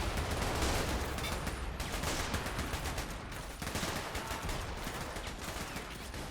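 Gunfire in a trench fight from the video game Men of War: Assault Squad, British attackers against German defenders: constant dense rattling of many shots, machine-gun bursts and scattered cracks, with no talking.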